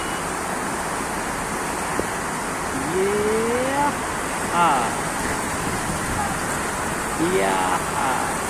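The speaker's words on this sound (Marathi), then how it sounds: "नदीचा प्रवाह हा जोरात आहे" Fast-flowing river current makes a steady broadband wash throughout, with boys' voices calling and shouting loudly over it.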